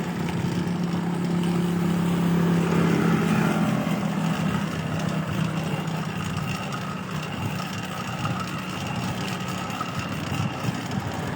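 A motorized bike's small engine drones steadily at moderate distance, a continuous low hum that eases slightly after the first few seconds and carries on without talk.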